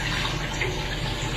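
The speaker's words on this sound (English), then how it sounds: "I'm going to put about a half a cup of water in." Water pours steadily into a blender holding persimmons, a close continuous splashing rush with no talk.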